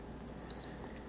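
A KAIWEETS KM601 digital multimeter on diode check gives one short, clear high beep, lasting a fraction of a second over a faint quiet background.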